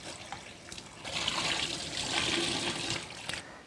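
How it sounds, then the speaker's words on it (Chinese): Clean tap water runs steadily over a marinated fish head being rinsed in a kitchen sink, a close, moderately loud splashing stream that swells and eases over a few seconds. "腌制好了鱼头，再用清水冲洗一下，这样子才能够彻底的去腥"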